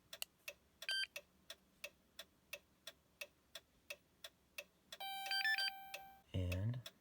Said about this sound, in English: now that we've heard those beeps, our key is programmed